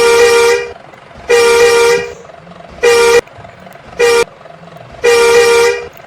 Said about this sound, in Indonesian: Oke, lanjut klakson 2.